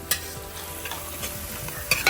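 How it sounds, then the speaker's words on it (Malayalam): Tomatoes sauté in a pan for an outdoor chicken sausage roast, a steady close sizzle broken by scraping stirs and a few sharp utensil knocks, with no one talking. "നമ്മുടെ തക്കാളിയൊക്കെ നന്നായിട്ട് വഴറ്റി വരുന്നുണ്ട്"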